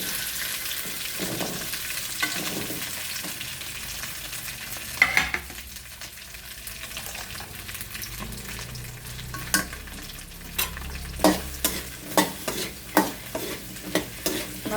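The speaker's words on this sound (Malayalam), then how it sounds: "ചൂടായി, നമുക്ക് വെണ്ടയ്ക്ക ഇടാം." Okra frying in hot oil in a pan, a steady nearby sizzle with scattered spatula scrapes that grow into a regular run of knocks toward the end, no voices.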